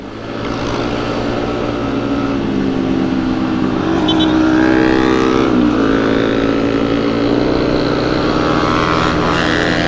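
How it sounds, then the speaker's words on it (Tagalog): Scooters roar along a highway on a night group ride, a loud, continuous engine drone close by with rising revs and shifting pitch and no break. "Ayun na, umaharurot na yung mga idol natin."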